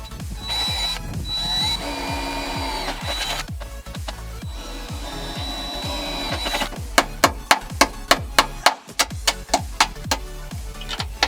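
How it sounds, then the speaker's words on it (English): A power drill bores holes for a custom bumper on a 1995 Ford F-150, a whirring drone that gives way to a run of sharp, evenly spaced ratcheting clicks, close and moderately loud. "I just have to like drill the holes or whatever"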